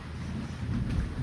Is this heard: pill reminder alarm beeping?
no